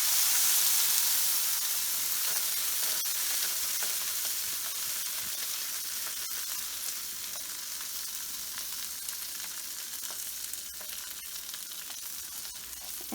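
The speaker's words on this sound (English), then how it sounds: "put them in my melted butter frying pan" Loud, dense sizzling crackles steadily as pumpkin seeds fry in melted butter in a hot pan, with occasional pops and stirring scrapes.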